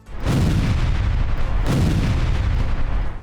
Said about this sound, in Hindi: रूसी सेना ने एक के बाद एक ताबड़तोड़ बम बरसाकर यूक्रेन के सैन्य ठिकानों को तबाह कर देने का दावा किया।